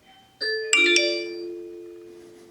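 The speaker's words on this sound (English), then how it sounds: "you will hear the Amazon Echo doorbell announcement on both video doorbells" An Amazon Echo doorbell announcement chime for a Eufy video doorbell rings out, two bright rising tones followed by a ding-dong pair that rings on and fades slowly in a quiet room.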